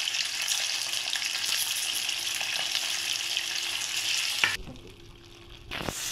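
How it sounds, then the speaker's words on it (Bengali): Paneer pieces frying in hot oil in a kadai: a loud, continuous crackling sizzle that drops away sharply for about a second, then returns more faintly. "পনিরগুলো হালকা ভেজে নেবো।"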